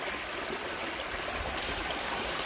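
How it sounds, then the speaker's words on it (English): Water runs steadily down an old stone aqueduct gutter on a former plantation estate in St Thomas, a continuous close rushing and trickling flow with no break. "The water around down in the gutter, man."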